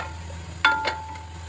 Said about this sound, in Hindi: अब इसको चिकन को फ्राई कर लेंगे ज़रा सा।